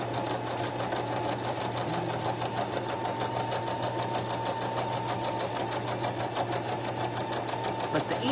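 A sewing machine runs steadily throughout, its motor humming and needle clattering in a fast, even rhythm as it stitches fabric, close and continuous with no pauses.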